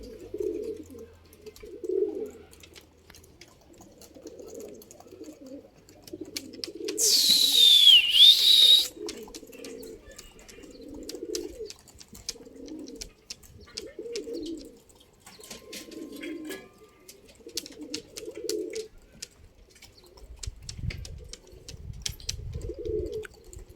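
Pigeons give a long series of soft, rhythmic coos close by, with a brief high whistle-like call partway through and a low rumble near the end. No one speaks.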